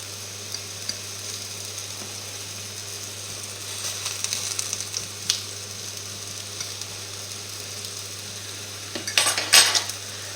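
Apple boudin sausages cooking in a pan, a soft steady sizzle with sparse clicks and a short burst of utensil clatter near the end, close and without talking.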